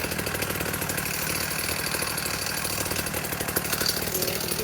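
A 1964 Fuji Motors Go Devil folding mini bike's small engine runs with the choke on, giving a loud, steady, rapidly pulsing buzz that holds throughout without a break.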